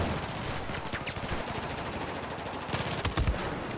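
AK rifles fire during an online multiplayer match of Battlefield 4 on PS4, a dense run of rapid automatic bursts and crackling shots over steady game noise, with heavier, closer shots near the end.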